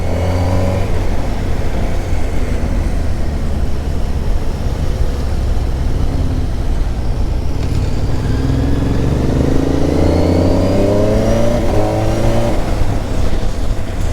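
A heavy vehicle's engine drones on the road, its pitch rising and sweeping as a lorry passes close by, loud and continuous.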